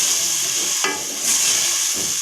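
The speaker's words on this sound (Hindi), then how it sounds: "टमाटर भून लेंगे" Tomatoes and onions fry in a pan with a steady bright sizzle and hiss, broken by a couple of short stirring scrapes, close and moderately loud with no talking.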